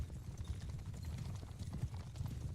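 Cavalry horses' hooves clatter in a Bannerlord battle, a dense, rapid clip-clop of many mounts galloping together, moderately faint and continuous throughout.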